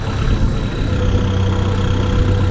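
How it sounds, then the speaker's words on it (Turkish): A tractor pulling a rotary tiller through soil runs steadily and loudly nearby, a constant low rumble with a mechanical hum and no pauses. "Şimdi ben traktör çekiyorum"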